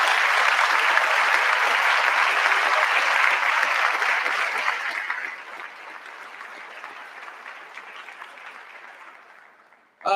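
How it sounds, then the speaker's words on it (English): School staff at an end-of-year celebration give a round of applause, starting as a full, loud burst of many clappers, then thinning and fading over about ten seconds before a brief sound at the very end. "let's just give everybody in this room a round of applause for a great school year"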